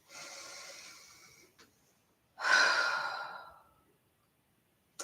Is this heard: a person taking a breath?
yes